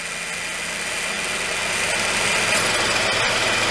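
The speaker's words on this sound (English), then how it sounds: "you heard what the compressor sounded like" A 2006–2012 Nissan Versa's faulty AC compressor drones loudly beside the running engine, a dense rough mechanical hum that swells slightly midway and shifts briefly near the end, with no voices.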